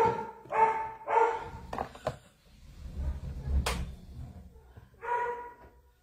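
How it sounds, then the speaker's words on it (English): A dog barks twice close by, then a few fainter yips and a single late bark, indoors with a low rumble of room noise, while a person speaks briefly. "It's my dog barking."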